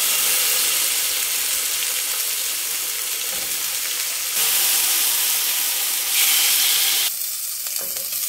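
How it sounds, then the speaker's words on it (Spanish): Meat and shrimp fry in hot oil in a pan, a loud, continuous sizzle that swells and dips in steps as the food is stirred and moved, with no talking. "en un sartén con aceite caliente, los vamos a poner a freír tanto la carne"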